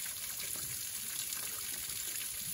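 Small waterfall on a hiking trail, its water pouring in a steady, close rush of broadband splashing that holds constant for the whole stretch with no voices.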